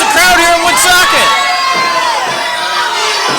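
A wrestling arena crowd in Woonsocket cheers and shouts loudly throughout, with whoops and high excited voices mingled in dense, continuous noise at an indoor pro wrestling event.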